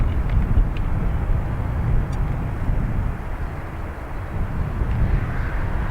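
A departing airliner at Dublin Airport gives a steady, broad roar of jet engine noise that holds loud and continuous throughout, with no talk.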